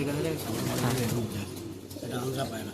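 Andhra pigeons, mostly females, coo softly in a Kolkata loft, with low murmuring calls running steadily beneath nearby voices.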